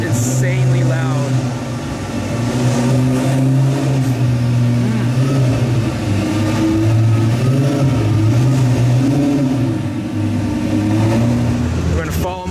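A loud car engine revs and drones in a sustained, rising and falling roar, with engine tones shifting throughout and voices faintly beneath.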